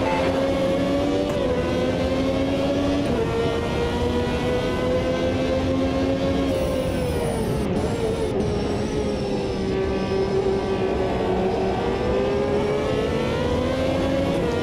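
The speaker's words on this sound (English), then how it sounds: "Trying to keep these downshifts as smooth as I possibly can with a paddle." Ferrari 333SP engine in the Automobilista 2 racing game, droning steadily with pitch climbing and dropping through a string of paddle-shifted downshifts, loud and close, with no talk over it.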